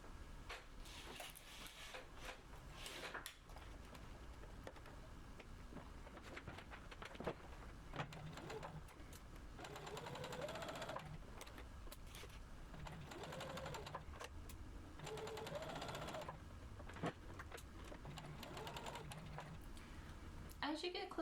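A sewing machine stitches a throw pillow along a piping cord in soft, mechanical whirring runs of varying length, faint beneath a person speaking over most of the clip.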